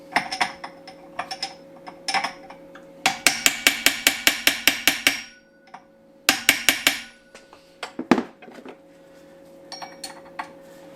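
Locking washer on a Ducati 748 engine timing gear bent down with close metallic taps, arriving in quick rhythmic bursts separated by short pauses, one heavier strike near the end, no voices.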